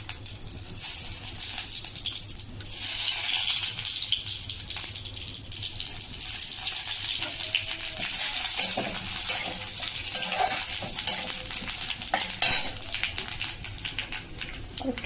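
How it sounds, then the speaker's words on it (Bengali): Soybean chunks fry in mustard oil in a wok, giving a steady, moderately loud sizzle with intermittent scraping and stirring clinks throughout. "সয়াবিনটাকে আমি কড়াতে তেল দিয়ে ফোড়ন দিয়ে আমি একটু সয়াবিনটাকে ভেজে নেব।"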